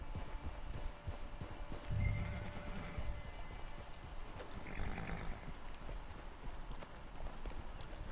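In the video game Red Dead Redemption 2, a horse whinnies loudly while hooves clop steadily along, over a constant background hum.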